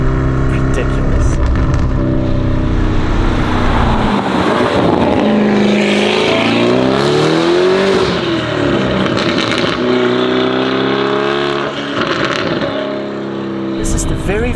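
A widebody Lamborghini Urus SUV with 780 hp and a loud aftermarket exhaust drives close by, its engine droning steadily with a throaty rumble that swells and climbs in pitch midway before settling again.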